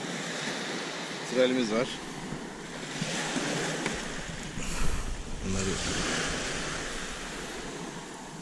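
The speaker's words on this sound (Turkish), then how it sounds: "Deniz iyice bozmaya başlamış zaten." Rough open sea with waves and wind washing steadily around a canoe at the end of a morning fishing trip, broad continuous surf noise with gusty wind on the microphone and a brief spoken phrase partway through.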